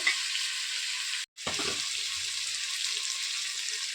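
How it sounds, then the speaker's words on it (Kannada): Mushroom biryani masala fries in hot oil with a steady, bright, hissing sizzle, briefly cut by a moment of silence before it resumes. "ಎಣ್ಣೆನಲ್ಲಿ ನೀಟಾಗಿ ಫ್ರೈ ಆದರೆ ಮಾತ್ರ ಚೆನ್ನಾಗಿರುತ್ತೆ ಬಿರಿಯಾನಿ"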